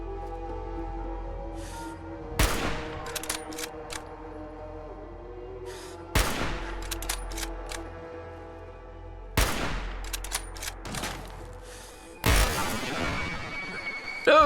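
Four heavy gunshots from a powerful weapon in Fallout 4, each a sharp, loud blast spaced a few seconds apart over a low ambient hum, the last one followed by a longer rumbling tail.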